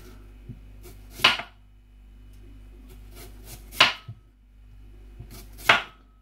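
A knife chops onions on a board in three widely spaced bursts of quick, crisp cuts, close and clear over a faint low hum, with no talk.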